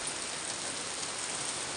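Monsoon rain falls in Bengaluru in the evening: a steady, dense, even hiss of rainfall with no breaks, moderately loud and enveloping.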